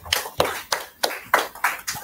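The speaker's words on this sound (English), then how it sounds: "Maybe we can clap for Dr. Ceesay." Sparse clapping from a small audience after a lecture on distributed data processing, about seven distinct separate claps spaced irregularly, close and fairly crisp, with no talk.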